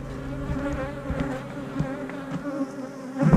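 Bees buzz around nuc hives, a steady close hum of many insects with occasional louder passes near the listener, growing more agitated toward the end.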